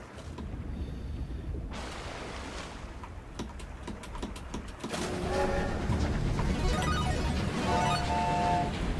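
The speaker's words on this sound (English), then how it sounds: "Kismet Love Train coming in." A train-themed alert effect on a livestream: rhythmic clattering and rumbling like a train rolling in, with a horn-like tone entering partway through and growing louder toward the end, heard alone without talk.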